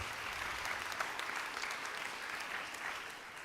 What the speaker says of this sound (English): also a warm applause for Raiffeisenbank Lech am Arlberg